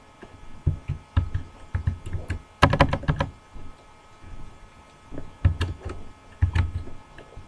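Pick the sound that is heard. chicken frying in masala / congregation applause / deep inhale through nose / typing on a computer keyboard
typing on a computer keyboard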